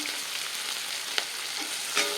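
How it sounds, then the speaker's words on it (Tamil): Steady, crackling sizzle of onions sautéing in a pan over medium flame, with a couple of faint clinks and scrapes breaking through the continuous hiss. "இது வதங்கி வரட்டும் மிக மீடியம் ஃப்ளேமில் வச்சுக்கலாம் தீயாமல் பார்த்துக்கணும்"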